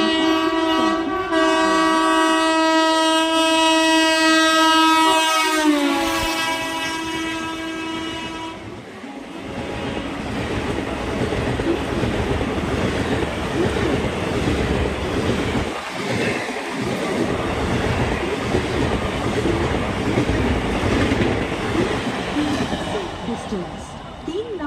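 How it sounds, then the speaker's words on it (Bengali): A fast non-stop train blasts its horn and roars through a station platform at night, loud and close, its wagons rumbling and clattering past for a long continuous stretch with voices faintly underneath. "ট্রু ট্রেন মানে না দ্রুত ট্রেন, যেটা থামবে না, 3 নম্বর প্ল্যাটফর্মে আসবে।"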